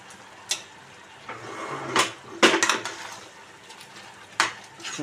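Mutton pieces are stirred into onion paste in a metal pot, giving scattered spoon scrapes and clanks of pan and utensils, a few sharper knocks standing out over a quiet kitchen background.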